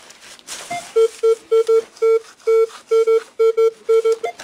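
A metal detector sweeping an attic sends out a rapid string of about a dozen short, identical electronic beeps in an uneven rhythm, loud and close, over faint rustling.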